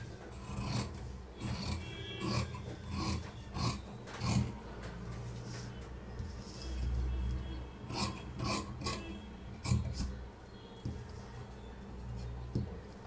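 Scissors cut through blouse lining fabric on a tailoring table, a steady rasping, rubbing snip-and-slide texture repeating in close, uneven strokes with no talk.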